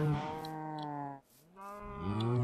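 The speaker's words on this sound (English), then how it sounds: "We got a bunch of cow spawns over here." Cows in the Minecraft video game moo loudly twice in succession, long drawn-out lowing calls with a short gap between them, heard alone without any talk.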